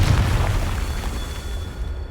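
A Confringo blasting spell explodes in the Hogwarts Legacy video game, giving a loud, sustained booming rumble that is strongest at the start and rolls on steadily without a break.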